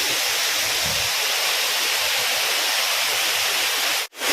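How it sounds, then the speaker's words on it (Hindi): Small waterfalls at Tanwat in Nuapada district pour in a steady, loud, broadband rush of water, close and unbroken, with a brief dip in sound near the end. "छोटे छोटे झरने यहाँ"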